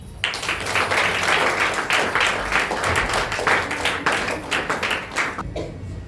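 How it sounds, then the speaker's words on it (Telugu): A group of children claps hands together at an awareness event, a dense, loud burst of applause that goes on steadily for about five seconds and then stops abruptly. "ఇప్పుడు మీ సార్ కోసం మీరు క్లాప్స్ కొట్టండి."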